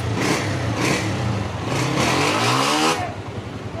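A 2021 Honda 125 motorcycle engine runs steadily at a loud, close idle, its low rumble holding even with a slight rise and settling, no voices.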